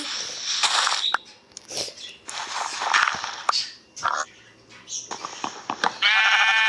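Sheep in a Minecraft-style Skyblock game bleat repeatedly amid busy game sound effects, with a long sustained bleat near the end.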